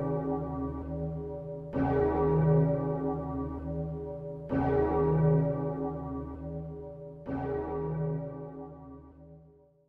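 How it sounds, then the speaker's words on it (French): A deep church bell tolls three times in a Resident Evil audio drama, slowly and evenly spaced, each stroke ringing out loudly and fading into a long humming decay. "Les cloches continuent de sonner."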